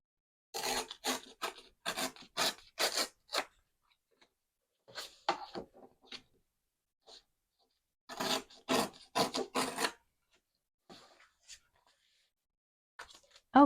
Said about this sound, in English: I will just tear off the excess with my ruler here